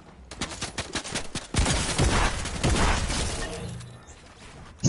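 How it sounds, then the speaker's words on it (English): A submachine gun fires rapid bursts in a shooter video game, loud and dense, with a brief gap before continuous sustained firing resumes with no talk over it. "Spamming with the SMG."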